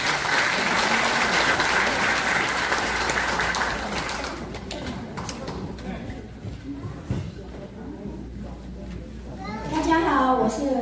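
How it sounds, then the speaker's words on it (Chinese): An audience applauds at a community gathering after guests are welcomed, clapping loud and dense at first then thinning into scattered claps and murmuring, with children's voices and talk rising near the end. "请掌声欢迎。"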